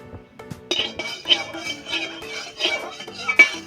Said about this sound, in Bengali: ভালো করে কড়াতে তেলটাকে মাখিয়ে নিচ্ছি।